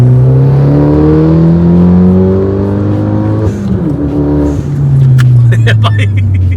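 A turbocharged stage 3+ custom Fiat car accelerates hard and close, its loud engine note climbing steadily, dipping briefly at a gear change, then pulling upward again.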